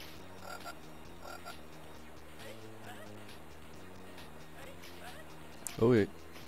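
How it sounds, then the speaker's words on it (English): Cartoonish frog croaks come from a 2005 Jakks Pacific Scooby-Doo plug-and-play video game, with a couple of soft calls among the game's steady background music and one loud croak burst near the end. "Gotta watch out for the frogs"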